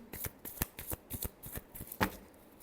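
Playing cards shuffled for a tarot-style Libra reading, with a series of quick crisp riffle and snap bursts in an irregular rhythm, close and fairly quiet, no voices.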